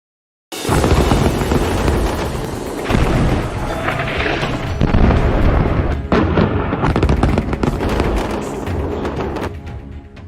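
Rocket attack explosions in combat footage of Hezbollah fighters striking IDF rescue vehicles: dense, loud booms and blasts follow one another almost without pause after an abrupt start.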